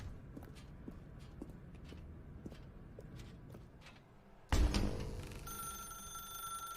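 Telephone ringing in the video game The Stanley Parable: a string of short, bright rings over a faint background, then a loud clattering burst as the handset is picked up, followed by a steady electronic tone.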